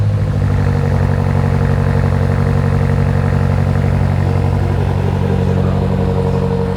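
A 2025 BMW M5 Touring with a particulate-filter (OPF) exhaust rumbles steadily at idle, deep and loud, a throaty exhaust burble holding constant throughout.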